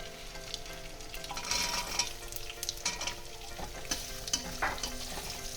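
Chopped coconut frying in oil with cumin and nigella seeds in a pan, a steady faint sizzle with occasional stirring clinks and crackles, close by and without talk.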